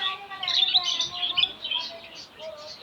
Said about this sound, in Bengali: এটা হচ্ছে জাবা পাখি, জাবা লাভবার্ড